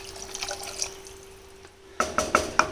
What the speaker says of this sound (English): So now I will add the water,